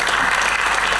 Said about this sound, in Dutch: applaus voor jezelf, zoiets.